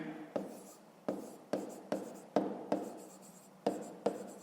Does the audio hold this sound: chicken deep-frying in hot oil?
no